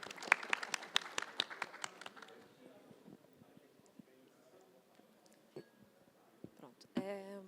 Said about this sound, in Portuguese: Aplauso para a Tatiana.